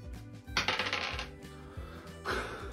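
Dice clatter and rattle across a hard surface in a couple of bursts of small clicking impacts, a toy game setting with music playing in the background.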